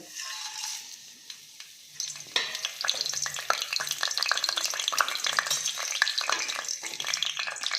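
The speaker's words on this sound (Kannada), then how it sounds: "ನೋಡಿ ಎಣ್ಣೆ ಬಿಸಿಯಾಗಿದೆ ಈಗ ಸ್ವಲ್ಪ ಮಸಾಲೆ ಐಟಮ್ ಎಲ್ಲ ತೊಗೊಂಡಿದ್ದೀನಿ ಚಕ್ಕೆ ಲವಂಗ ಏಲಕ್ಕಿ ಮತ್ತು ಅನಾನಸು ಸ್ವಲ್ಪ ಸೋಂಪು ಬಿರಿಯಾನಿ ಎಲೆ" Whole spices such as cinnamon, cloves, cardamom, star anise, fennel and bay leaf hit hot oil for tomato bath, setting off a loud, steady crackling sizzle close up after a quieter opening, with no talk over it.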